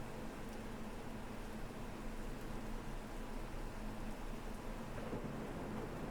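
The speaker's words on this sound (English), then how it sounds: "There goes the thunder" Rain falls steadily with low thunder rumbling in the Derail Valley train simulator game, a faint, continuous wash of noise with no voices.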